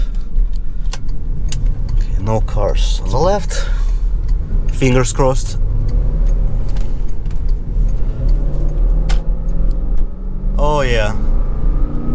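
A 957 Porsche Cayenne 4.8L with rough acceleration and fault code P1027 pulls onto the road and speeds up, its engine rumbling loud and steady from inside the cabin while a person talks over it.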